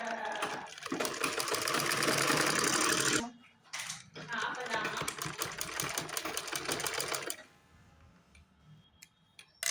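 A sewing machine runs a top seam along a pajama waistband belt, its rapid mechanical stitching rattle coming in two long bursts separated by short pauses, then easing off to quieter handling sounds near the end.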